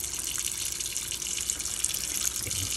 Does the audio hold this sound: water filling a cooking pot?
yes